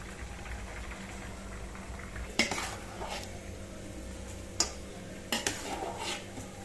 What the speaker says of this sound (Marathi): एका चाळणीमध्ये, मोठ्या चाळणीमध्ये ओतायचंय हे असं आपण चाळणीमध्ये ओतून घेणार आहोत